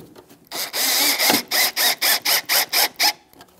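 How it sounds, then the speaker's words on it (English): A screw is driven into a plastic Jeep Wrangler tail light, cutting its own threads, heard as a sustained grinding whir followed by about eight evenly spaced, close ratcheting bursts. "it's creating the threads on that plastic"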